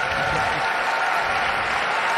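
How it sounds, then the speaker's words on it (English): Crowd applause at a hound group dog show, a steady dense wash of clapping from many hands filling the hall, sustained and even throughout. "his first crowd reaction that overpowered the others"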